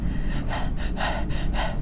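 Someone imitates panting: five or six quick, rhythmic breathy puffs in a steady run, close and fairly loud over a constant low background hum, with no words.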